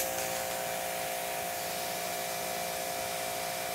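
A pressure washer fitted with a new 2.5 nozzle sprays in a continuous, loud hiss with a steady pump whine underneath, unbroken for the full few seconds.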